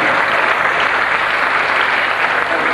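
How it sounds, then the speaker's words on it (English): Dense audience applause at the Australian Songwriters Association annual song contest in 1986, a steady wash of many hands clapping at even loudness throughout, with no talk over it. "Give her a big round of applause."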